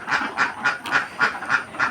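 Ducks sick with duck plague quack in a steady run of about seven evenly spaced, nasal calls, close by and fairly loud, with no talking.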